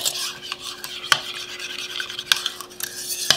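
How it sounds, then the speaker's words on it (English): Spoon stirring sweetener and heavy whipping cream in a mug for a keto German chocolate mug cake, a continuous close scraping swirl punctuated by a few sharp clinks against the mug. "I'm just going to stir that up, combining our sweetener and our heavy whipping cream."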